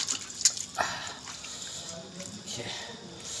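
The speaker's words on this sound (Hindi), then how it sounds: "पानी में डुबा दिए" Water drips and splashes as goat tripe is dipped in water and lifted out during village-style cleaning, with a few sharp close drips followed by softer trickling.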